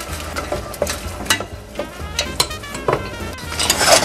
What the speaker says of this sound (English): now I'm just going to saute this until the onions begin to turn opaque